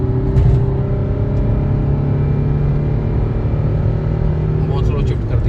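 Cabin hum of an automatic car accelerating in drive with slow gear shifts, a steady engine drone with rising and shifting tones under continuous talk.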